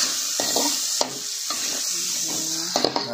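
Chili peppers frying in a pan while stir-frying bitter melon with tempeh and anchovies, a hissing sizzle with repeated stirring scrapes and clatters of the utensil, close and continuous.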